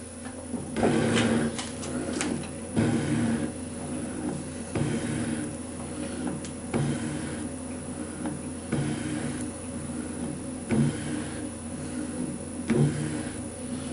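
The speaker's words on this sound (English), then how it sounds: "The trick is now cutting fluid, slow down machine." A metalworking machine cuts slowly with cutting fluid while a micrometer stand is made, giving a steady mechanical hum with repeated scraping, clunking strokes at a regular pace, recorded close by.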